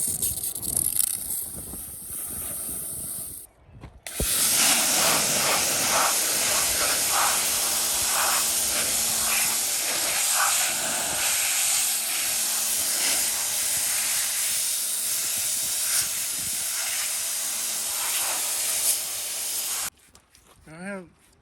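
Pressure-washer water spray hissing steadily against a Jeep XJ engine being cleaned of years of grime in a home garage, loud and continuous for most of the stretch, with brief pauses at the start and end.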